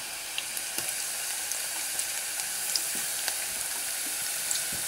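Garlic and ginger fry in a pan for Ethiopian shiro with an even, soft hiss. A few light clicks come through, and nobody talks.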